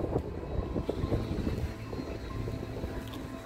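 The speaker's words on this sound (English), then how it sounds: "it is windy" Wind buffets the microphone continuously, a rumbling low roar with fluttering gusts and no voices.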